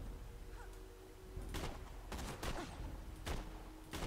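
A new sniper rifle being test-fired in the shooter Borderlands 2, a handful of sharp, spaced-out shots, some in quick pairs, set against a low, steady background hum, moderately quiet overall.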